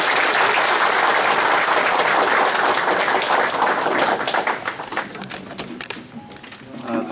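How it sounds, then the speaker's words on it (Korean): Audience of reporters and visitors in a provincial government briefing room applauding after a gubernatorial candidacy announcement, loud sustained clapping that thins into scattered individual claps near the end. "우리 남시장님께 큰 박수로"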